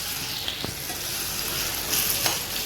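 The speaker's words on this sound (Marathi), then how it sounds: "आणि घाटा मारून घेऊया बघा कांदा अजून शिरला नाही" Onion with garlic stirred and fried in a pan for a monsoon wild-greens Agri recipe, a steady close sizzle with a few scraping stirs of the spoon across the pan.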